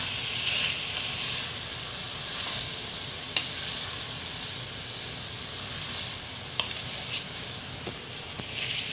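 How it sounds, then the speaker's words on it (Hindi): Steady sizzling as mutton with garam masala fries in a hot pan, a continuous hiss with occasional sharp clicks and pops, close and fairly quiet, with no talking. "अब इसको हम भूनेंगे।"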